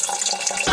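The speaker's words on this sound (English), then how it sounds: "Pour some Malibu, about this much." Malibu rum pours into a jigger, a brief continuous close liquid stream that gurgles steadily under a bright splashing hiss.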